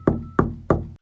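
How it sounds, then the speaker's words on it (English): Three gentle, evenly spaced knocks on a door inside a hut at night, close and clear, each with a short decay, with nothing else in the background. "a gentle knock at the door."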